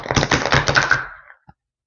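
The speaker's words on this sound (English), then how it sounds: "I'm going to go ahead and shuffle these cards here" Tarot of the Sidhe cards being shuffled by hand, a dense flurry of close, crisp riffling and flicking that runs for over a second, stops, and ends with one small tap.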